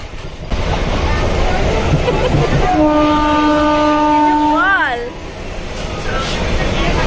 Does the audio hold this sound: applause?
no